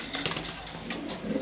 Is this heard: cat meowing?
no